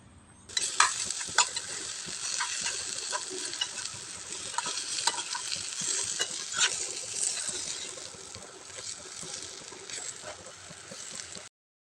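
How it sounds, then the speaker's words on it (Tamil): Spoon scrapes and stirs roasted rava, grated coconut and moong dal together in a pan for a sweet, a steady close scratching and shuffling with faint sizzle throughout. "இது எல்லாத்தையுமே சேர்த்துட்டு இதை வந்து நல்லா ஒரு முறை கலந்து விட்டுடலாம்"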